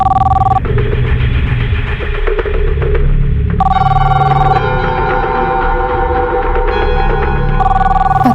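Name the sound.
telephone ringing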